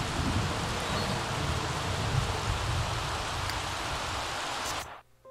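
Steady heavy rain falls in The Sims 3, a dense, even hiss that fills almost the whole stretch at close range with no voices. It cuts off abruptly near the end.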